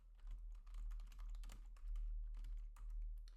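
Linux terminal commands typed on a computer keyboard, a steady run of close, light key clicks in short bursts with brief pauses, no talking.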